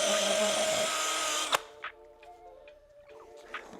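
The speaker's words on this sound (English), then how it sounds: "We're trying to give it a little bit more pressure to let that adhesive heat up and melt away from the eraser wheel." A drill spinning an eraser wheel against LED strip adhesive on car paint whines steadily and loudly, then stops abruptly partway through, leaving a few faint clicks and knocks.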